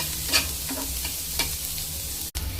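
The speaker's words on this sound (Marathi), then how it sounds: "कांदा पण मस्त लाल थोडंसं भाजून घ्यायचा, रंग बदलेपर्यंत" Chopped onion sizzles steadily in a hot pan for a mutton kala masala curry, with a few scraping stirs of a spatula cutting through the constant frying hiss near and clear, no voices.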